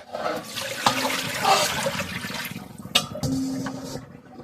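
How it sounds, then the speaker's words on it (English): Raw chicken wings are rinsed with lime in water, with close splashing and sloshing in a bowl and a couple of sharp knocks against the container. "Wash it thoroughly with lots of lime"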